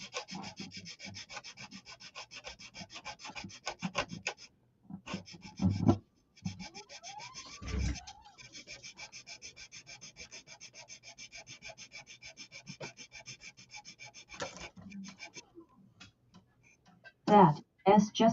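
Rhythmic scratchy rubbing of sandpaper by hand on a wooden model ship part, the Lady Washington bow railing, quick regular strokes close by, pausing now and then, with brief bursts of voices near the end.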